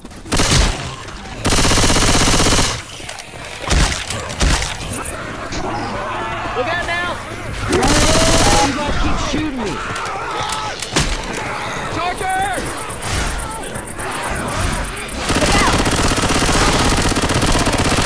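Loud assault rifle fire in Left 4 Dead 2 rattles in sustained bursts amid chaotic game noise, overlapping with players talking throughout.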